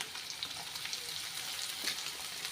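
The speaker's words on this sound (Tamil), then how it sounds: "எண்ணெயில் நல்லா பொரியட்டுது" Vegetables — onion, carrot and beans — frying in oil for ragi semiya kichadi, a steady soft sizzle with faint scattered crackles throughout, no voices.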